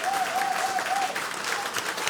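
A church congregation applauding, dense sustained clapping filling the room from start to finish, with a faint raised voice briefly audible within it.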